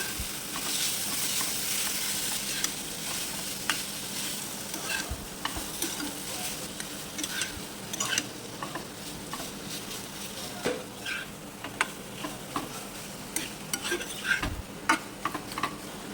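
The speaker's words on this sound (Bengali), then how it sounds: "এবার চিকেনগুলো দিয়ে ভালো করে কষিয়ে নেব" Boiled chicken pieces are stir-fried with spices in a pan, giving a continuous sizzle broken by scraping stir strokes and occasional ticks of a utensil against metal.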